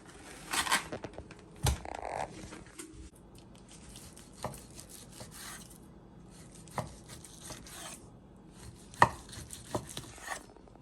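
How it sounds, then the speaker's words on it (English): Knife dicing a whole onion on a cutting board while prepping birria, with sharp, irregular chopping taps in quick bursts, close and clear, with quieter gaps between strokes. "Now it's time to dice up 1 full onion."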